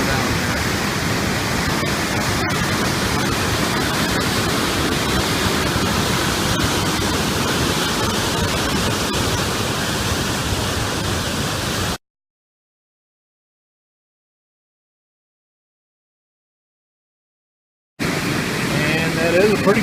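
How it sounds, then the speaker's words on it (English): A large waterfall in Alaska roars with a steady broadband rush, loud and continuous, cutting to total silence for several seconds before the roar returns. "there is a waterfall down there."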